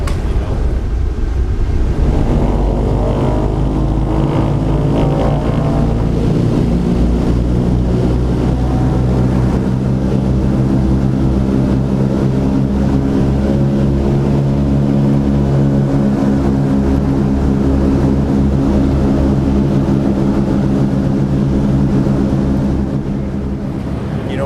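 Wright Cyclone radial engines of a B-17 bomber in flight, heard from inside the aircraft as a loud, constant droning roar with layered low harmonic hum and a slight shift in pitch partway through.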